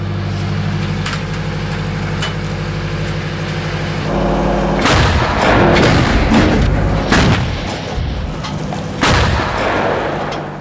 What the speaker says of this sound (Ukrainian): Зараз у нас буде відбуватися постріл по орках.